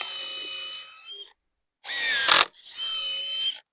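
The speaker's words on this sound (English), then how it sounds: "Why do we drill it? So it doesn't split the wood." A power drill bores a pilot hole in hardwood in three close, loud bursts with short pauses between them. The middle burst rises into a harsher grinding whine as the bit bites into the wood.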